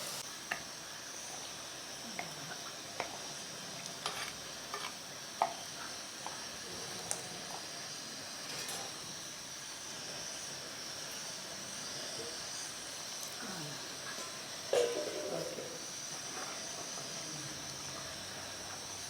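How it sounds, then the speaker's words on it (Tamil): A steady low hiss and gentle bubbling simmer of prawn and eggplant curry boiling in a clay pot, with occasional faint pops and clicks throughout. "எவ்வளோ நேரம் கொதிக்கணும் இது?"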